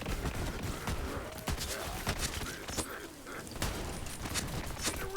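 Rapid bursts of gunfire from the video game Borderlands 3, a dual-wielding build firing steadily and loudly with sharp cracks packed close together across the whole stretch.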